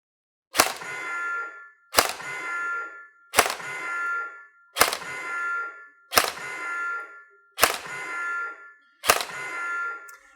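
A Specna Arms Edge airsoft rifle fires seven evenly spaced single shots during an FPS test, each a sharp close crack with a short metallic ring, separated by about a second and a half of silence.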